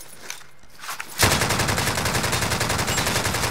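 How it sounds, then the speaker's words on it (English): Automatic gunfire rattles in the shooter game Call of Duty: Modern Warfare, a sudden, loud burst of rapid, evenly spaced shots that goes on for over two seconds after a short quieter lead-in. "Shots over here."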